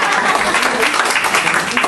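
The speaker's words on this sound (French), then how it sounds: "une acclamation pour la dame" Church congregation applauding a woman, loud dense clapping mixed with crowd murmur, brief and continuous.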